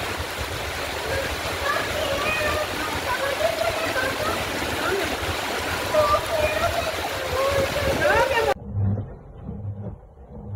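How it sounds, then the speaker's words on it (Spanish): Floodwater in a city street after a storm in Delicias, churned by passing cars: continuous rushing and sloshing water, loud and close with voices in the background, cutting off abruptly near the end. "Acá, cuando pasan los carros, se mueve el agua y ya subió ese carro a la banqueta."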